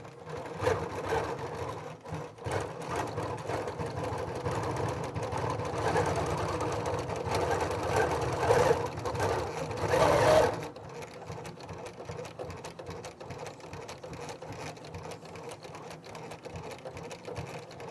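A sewing machine quilts lines through fabric with a quilting foot, running as a steady fast mechanical whir and rapid stitching chatter for about ten seconds before stopping, leaving quieter background noise.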